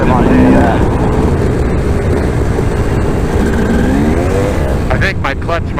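A KTM 250 dirt bike with a fried, slipping clutch makes a loud, continuous engine drone with rising and falling revs, heard close up under a rider's talk on an outdoor trail.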